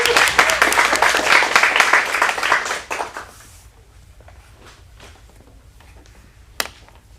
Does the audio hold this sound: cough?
no